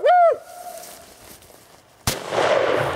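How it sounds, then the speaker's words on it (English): One sharp, loud rifle shot cracks out close by during a buffalo hunt on the Crow Reservation, followed by a rushing, decaying echo. A brief high tonal call and quiet background come first. "I'm gonna shoot again."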